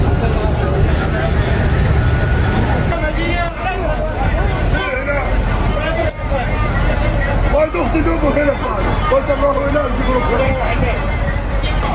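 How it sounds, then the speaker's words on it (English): Dense crowd leaving the mosque in Makkah during Ramadan, with buses waiting nearby: a steady loud babble of many voices over constant traffic and bus engine rumble, with an occasional air-brake hiss. "This is the crowd coming from the masjid and going to their apartments, hotels, wherever they are staying. And over there are the buses."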